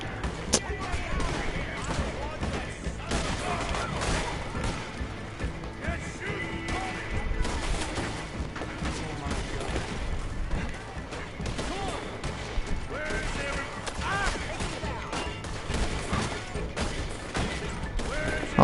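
Gunfire in the video game Red Dead Redemption 2 during a bank shootout, with dense repeated shots, crashes and impacts running steadily throughout and speech mixed in.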